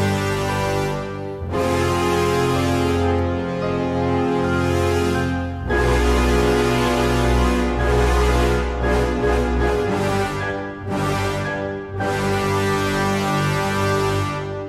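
A piano plays back an epic film-score composition, with dense sustained chords and a deep low register, phrases rising and pausing; full and close throughout with no speech.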